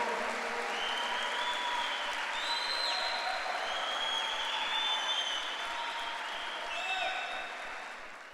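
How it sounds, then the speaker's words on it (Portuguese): A Sunday church congregation applauds for the Lord, a long sustained wash of clapping with voices calling and cheering above it, fairly distant and steady before tapering off at the end. "Dá um aplauso aí ao Senhor"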